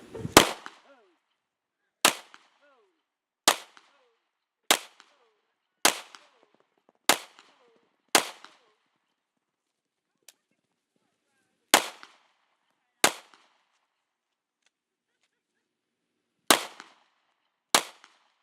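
Roughly a dozen sharp gunshots from a Springfield XD9 Mod 2 subcompact 9mm pistol ring out one at a time at irregular intervals, each crack loud and close with brief decay and silence between.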